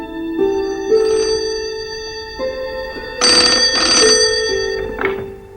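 A telephone rings in a radio drama, with repeated sustained electronic ring tones sounding in bursts, close and clear, with no talk over it.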